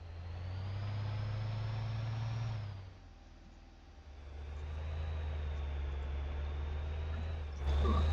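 Tractor engine in a farming simulator game on the Valley View map, a steady mid-pitched drone that dips briefly before resuming and rising again at the end, with no talk.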